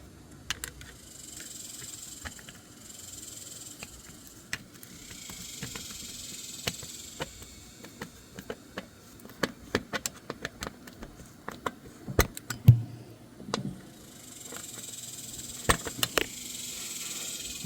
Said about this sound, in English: These cicadas are really getting on my nerves.